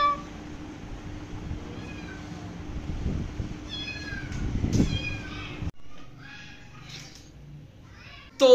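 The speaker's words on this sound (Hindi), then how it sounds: "तो खैर गाइस मैं ले आया हूँ बिल्ली" Kitten meows several times in thin, high, repeated cries indoors, moderately close, with quieter stretches and a faint voice in the background.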